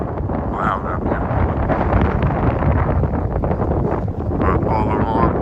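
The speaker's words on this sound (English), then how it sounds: "So I'm sure the wind is very loud up here." Loud wind buffets an iPhone 11's unshielded microphone on a lakeside trail walk in Katy, Texas, producing a constant low rumbling roar; faint voice-like sounds come through beneath the buffeting.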